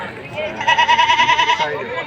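A large Boer and Anglo-Nubian crossbreed goat at a livestock market in Padre Garcia, Batangas gives a loud, wavering bleat lasting about a second, close by, with voices of people talking around it.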